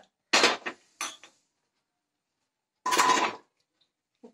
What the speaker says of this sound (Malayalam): കുക്കറിലേക്ക് മത്തങ്ങ ഇട്ടു.